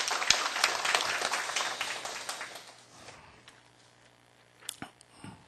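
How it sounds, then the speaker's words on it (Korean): Applause from staff at a monthly office meeting, a loose burst of clapping that fades over about three seconds, followed by a few scattered taps and small handling noises in a quiet room. "박수로 격려 좀 해주십시오"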